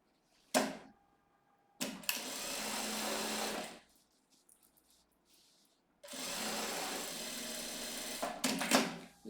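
A sewing machine stitches a seam on a bag, running in two sustained bursts of about two seconds each with short clicks and quiet handling between, close and fairly loud, no talk.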